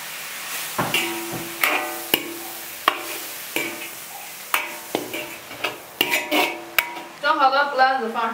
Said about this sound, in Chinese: 翻炒均匀放青椒